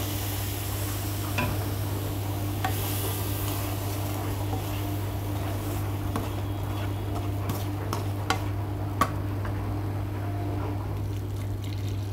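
Saffron-infused milk goes a little at a time into frying semolina halwa and is stirred, giving a soft continuous sizzle and bubbling over a steady low hum, with occasional light spoon clicks.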